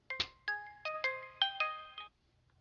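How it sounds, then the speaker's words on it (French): A phone ringtone for an incoming call plays as a short, bright melodic sequence of about seven tones in a steady rhythm, close and clear, lasting around two seconds before it stops in silence. "je reçois des appels là"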